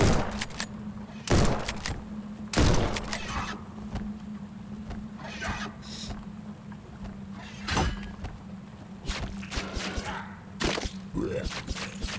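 Sharp, intermittent gunshots in the survival roguelike video game The Bleakest Keep, several distinct loud cracks spaced irregularly over a steady low hum.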